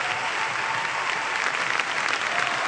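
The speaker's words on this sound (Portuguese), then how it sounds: "Queria que vocês recebessem ele aí com um aplauso abençoado" Congregation in a Portuguese-language church service welcoming someone with applause; dense, even clapping from a crowd continues steadily for the whole stretch, with no speech over it.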